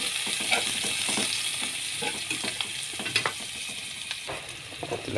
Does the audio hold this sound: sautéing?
yes